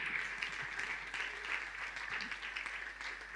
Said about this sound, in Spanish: sostenga ese aplauso un minutito más